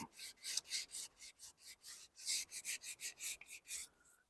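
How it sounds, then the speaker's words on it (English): Light scuff sanding across a wooden coffee table, a steady series of quick rhythmic rubbing strokes, close and fairly quiet with no talk. "Pretty much just going to give the whole thing a light scuff sand."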